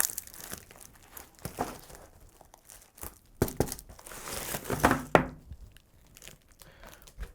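Aluminium foil packaging around a pair of AirPods Pro is crinkled and torn open in a run of close, irregular rustles and crunches with a few sharper bursts, no talking.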